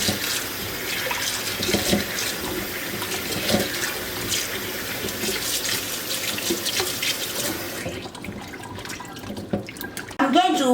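Pumpkin rinsed under a running kitchen tap, a steady close splash of water for most of the time before the flow stops and a few handling knocks follow.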